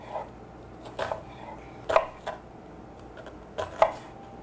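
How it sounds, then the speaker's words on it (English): A knife chops onions for bruschetta on a cutting board in a home kitchen. Sharp, close, irregular knocks come in small clusters with pauses between them. "I'm going to cut some onions up for my bruschetta"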